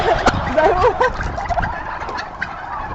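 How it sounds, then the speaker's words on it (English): Turkeys gobble close by in quick, warbling bursts that overlap from several birds around, with softer clucks and shuffling in between. "This is like out of a Stephen King movie here with the turkeys all around us"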